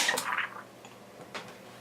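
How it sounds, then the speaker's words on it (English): A can of Guinness Draught is opened and its nitrogen widget fires, giving a short hissing burst at the start, a brief quieter gap, then a second small hiss; close and fairly soft, with no talking. "Alright, you can hear the nitrogen firing."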